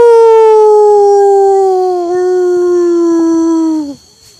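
A person imitates a wolf howl with one long, loud, steady sustained tone that dips briefly midway, then cuts off sharply with near silence after.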